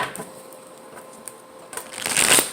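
Soft rustling and light taps of tarot cards being handled, ending in a brief louder riffle of the cards shuffling up close.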